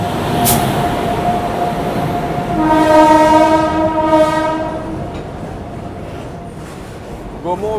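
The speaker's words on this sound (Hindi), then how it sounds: "गोमो वैगनाइन एच के साथ ऑयल टैंकर अभी वडोदरा के प्लेटफॉर्म नंबर 1 को स्किप कर रहे हैं।" A freight train of oil tankers hauled by a WAG-9H electric locomotive runs through a station platform without stopping, its loud sustained horn blaring over rumbling wheels, then fading to a steady rolling clatter.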